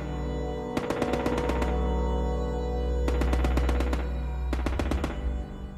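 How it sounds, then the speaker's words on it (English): A machine gun fires from an upper hotel floor in three sharp rapid bursts of roughly eight to ten rounds each, with short pauses between, loud and close over a low steady background rumble. "They set up a machine gun on the top floor and open fire in the rebel trenches in the park below."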